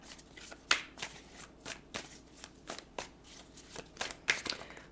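Tarot cards shuffled by hand during a Pisces tarot reading: close, crisp riffling bursts and soft card slaps repeat irregularly over about five seconds, with no talking.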